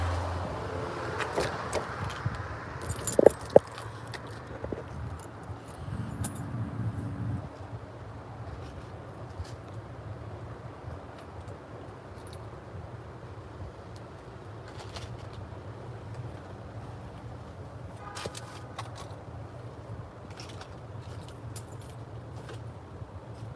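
Metal keys jangle and clink in a short burst close by, near a police headquarters building, while someone searches through a bunch of the wrong keys. A steady outdoor traffic hum and a few faint birds continue underneath.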